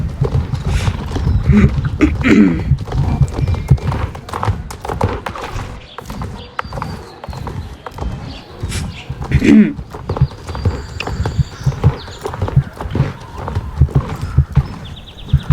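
Horse hooves clip-clop steadily in the video game Star Stable Online, a close, rhythmic patter of hoofbeats with a whinny mixed in.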